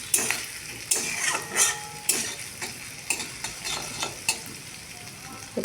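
Spices and ginger fry for chana dal, a soft continuous sizzle broken by repeated sharp scrapes and clinks of a spatula stirring against the pan.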